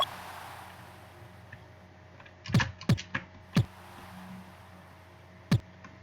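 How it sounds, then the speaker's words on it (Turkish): Several sharp clicks from a faulty computer keyboard come in an uneven cluster, close and crisp, then one last tap after a pause, over a low steady hum. "Klavye sesi fazla gelebilir."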